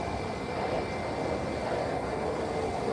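Tradewind aircraft landing on runway 10 at SJU airport in San Juan, a steady distant engine roar holding at even loudness throughout.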